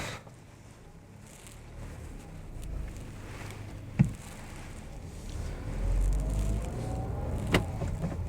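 A Tata Altroz XZ idles just after starting, then pulls away in first gear with a low, steady engine hum and a few faint clicks. No one speaks.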